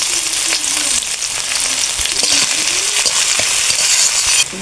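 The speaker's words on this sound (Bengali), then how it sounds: "এখন দিয়ে দেবো পেঁয়াজ কুচি" Chopped onion hits hot oil already holding dry red chillies, cumin seeds and bay leaf, giving a loud, steady broadband sizzle with occasional spoon-scrape clicks; no one speaks.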